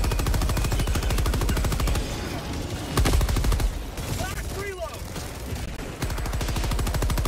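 Rapid automatic gunfire from a Gatling sentry in the video game Helldivers 2, a steady rattling burst running nearly throughout, with brief gaps and heavier blasts, while voices talk over the battle noise.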